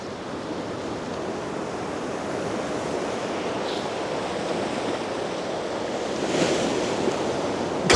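Ocean surf breaks along a coastline in a continuous, roaring wash mixed with wind buffeting the microphone, swelling slightly louder toward the end with no voices.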